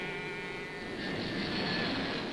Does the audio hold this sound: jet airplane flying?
yes